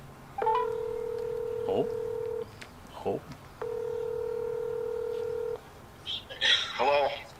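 Two long, steady dual-tone beeps from a phone keypad, each lasting over a second, with a short spoken interjection between them and a ringback or voice blip at the end.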